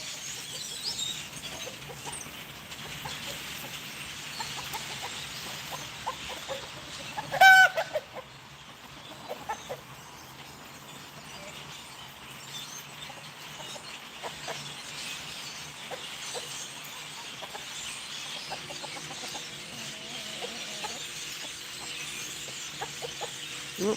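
Chickens in a backyard flock cluck faintly in the distance against a steady outdoor hum, with one louder squawk partway through and scattered soft calls continuing.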